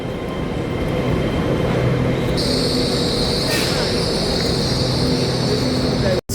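Passenger train running on rails toward its terminus at Leeds, a continuous loud rumble of wheels with a steady high whine joining partway, heard from on board until an abrupt cut near the end.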